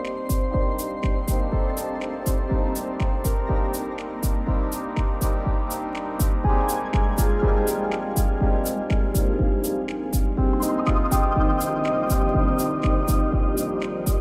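A small modular synthesizer system plays layered sustained tones that shift in pitch, while a Digitakt drum machine adds a steady, punchy beat of regular kicks and clicky hits throughout.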